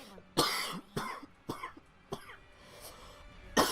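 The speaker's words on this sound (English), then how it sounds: "do not like this coughing that I'm having" A person gives a series of about six separate coughs, sharp and fairly close, spaced unevenly across a few seconds with quiet breaths and faint background noise between them.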